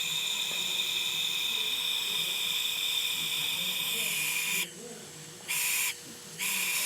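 A steady high-pitched hiss of air leaking from a silent air compressor with a faulty check valve runs continuously, then cuts out and returns in short bursts, over a low background rumble.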